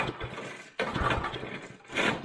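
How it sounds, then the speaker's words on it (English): An old abandoned go-kart engine cranks and tries to start after petrol is poured into the intake, giving a rough, broadband mechanical churn that drops out briefly, then resumes in uneven bursts close to the mic. "Take 72 getting this engine to pop off."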